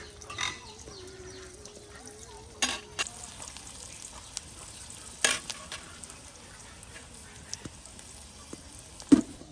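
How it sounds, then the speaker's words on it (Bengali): Onion, chili and garlic sizzle in hot oil with a soft continuous crackle, broken by occasional scrapes and clatters of a utensil against the pan. "পেঁয়াজ মরিচ তার সাথে রসুন টুকরো সব একসাথে তেলে একদম ভাজা ভাজা করে নেওয়া হবে"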